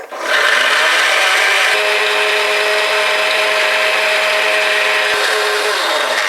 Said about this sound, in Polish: Blender zamykamy i zaczynamy blendować.